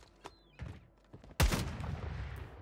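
A single loud close gunshot burst in Call of Duty: Modern Warfare III, its echo and rumble trailing for about a second after a few faint taps and quiet game noise.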